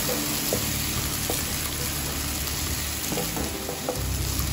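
Onions and a green chili frying in a pan for an egg roast, giving a loud, dense, continuous sizzle close up that holds evenly throughout, with a few faint clinks of utensils and no voices.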